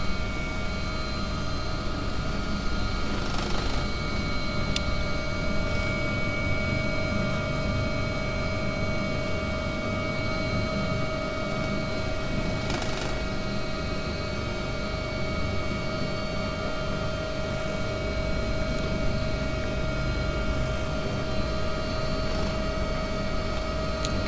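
A helicopter holding an auto hover before landing, a steady droning engine and rotor whine with constant tones and faint periodic thumps, continuous and unchanging throughout.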